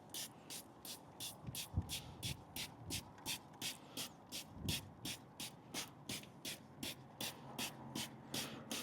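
Rapid rhythmic hissing bursts from a pump sprayer applying pre-wash to a car repeat steadily, each short spray following the last, over low background rumble.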